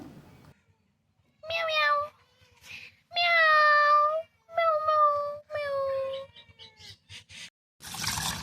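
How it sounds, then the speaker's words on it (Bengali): Two cats meow in a series of drawn-out, rising and falling calls while playing, several loud cries in close succession with brief pauses, followed by shorter chirpy mews near the end. "এই দেখো দুটো বিড়াল চলে এসেছে আর ওরা কিন্তু একে অপরের সাথে খেলা করছিল"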